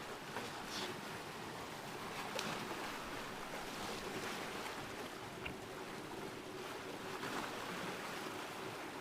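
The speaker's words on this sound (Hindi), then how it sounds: "समंदर की लहरों की अद्भुत आवाज़ सुने" Ocean waves wash in a steady, continuous roar with wind noise mixed through, forming an even, soft ambient background with no talking.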